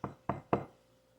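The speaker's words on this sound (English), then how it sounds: "Knocking on the hardest wood I know." Three sharp knocks on hard wood come close and loud in an even rhythm, each a hollow thud that decays quickly, followed by quiet.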